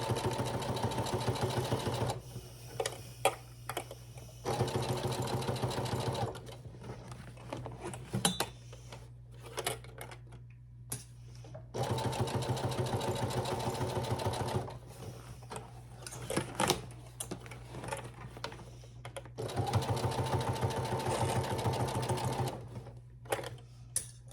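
Sewing machine stitching a seam on a summer tote bag, running in several steady rapid bursts of mechanical whirring and clatter, separated by quieter pauses with small clicks and handling noises, close and moderately loud.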